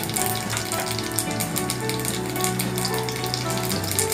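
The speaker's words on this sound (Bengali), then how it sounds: "এবার আমি তেল দেওয়াই আছে, এবার আমি জিরেটা ফোড়ন দিয়ে দেবো" Cumin seeds sizzle in hot oil in a pan as they are tempered for a Bengali potato curry, a loud, continuous crackling fry with bright spitting pops throughout and no voices.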